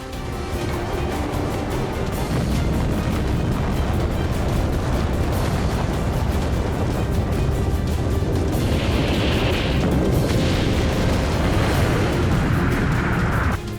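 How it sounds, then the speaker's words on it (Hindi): A documentary sound effect of the atomic bomb exploding over Hiroshima: a continuous, loud, rumbling roar of blast and debris with crackling bursts that sustains heavily throughout, with no voices heard. "अमेरिका ने जापान के हिरोशिमा शहर पर परमाणु बम गिरा दिया"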